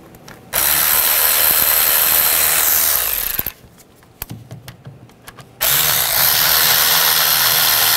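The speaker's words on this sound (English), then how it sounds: "I'm just going to use a 10 millimeter socket. Loosen those up first." A ratchet with a 10 mm socket loosens bolts on a 2004-2009 Toyota Prius during ignition coil replacement. Two long, loud, steady bursts of close mechanical whirring are separated by a quieter stretch with scattered clicks.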